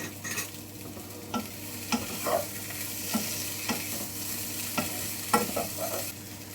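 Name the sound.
mixing potato curry with spices and salt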